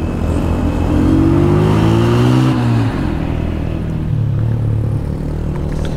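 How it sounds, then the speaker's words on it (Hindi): Heavy engine rumble of loaded trucks passing on a mountain road, a loud, steady drone with a rising then falling pitch sweep as a vehicle goes by close, heard from a motorcycle. "ये लोडेड ट्रक्स जाते हैं"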